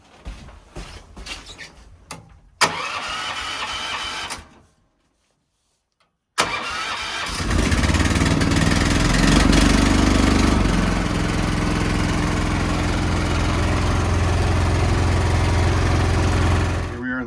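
A backyard rope tow engine, a small engine driving a riding lawnmower transmission, sputters through a first start attempt, falls silent, then starts and settles into a loud, steady idle close by.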